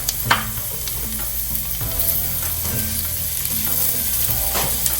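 Onion, ginger, garlic and green chilli fry in a pan with a loud continuous sizzle. Low, rhythmic scraping and knocking from stirring runs underneath.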